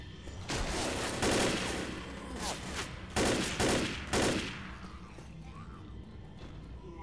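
Rapid rifle gunfire bursts out in the Left 4 Dead game, several loud volleys in quick succession with short pauses between them, over a steady background rumble.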